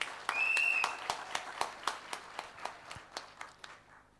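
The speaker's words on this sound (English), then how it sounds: "a round of applause for our dear IGP" Graduation ceremony audience applause that starts as a short burst and then thins into separate rhythmic claps spaced about a quarter second apart, moderately faint, with a brief tonal squeal near the start.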